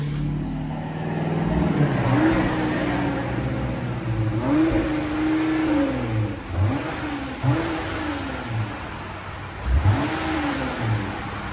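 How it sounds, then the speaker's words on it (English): A stock-exhaust 2021 Jeep Gladiator with the 3.6L V6 is revved repeatedly in blips that rise and fall, a moderately loud, smooth engine note with no talking. "2021 Jeep Gladiator. This is what it sounds like before."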